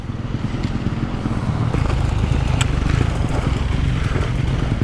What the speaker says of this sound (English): Ooh, can hear some bikes coming.